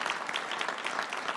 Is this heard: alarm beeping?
no